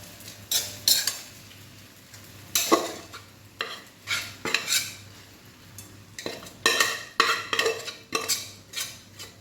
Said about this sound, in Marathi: हे छान मिक्स करून घ्यायचं आहे